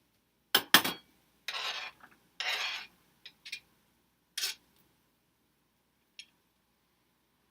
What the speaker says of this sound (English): So I chopped up 2 pieces of celery, and I'm going to put that in my big bowl.